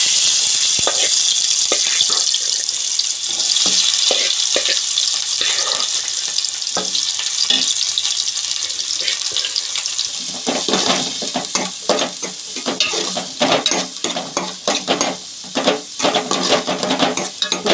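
Sliced onions hit hot oil for a chicken drumstick curry, a loud close sizzle that settles into steady frying, with clinks of a spoon or pan and rapid stirring scrapes toward the end; no talk.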